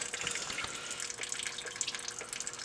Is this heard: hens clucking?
no